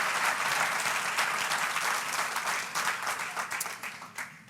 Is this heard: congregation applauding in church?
yes